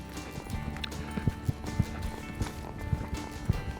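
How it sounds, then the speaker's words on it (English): A reining horse lopes in an arena, hooves striking soft ground in a steady three-beat rhythm of dull thuds, moderately close under low background noise. "let him lope a couple strides"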